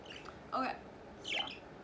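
Pet parrots give two short, harsh squawks indoors, moderately close over a low room hum.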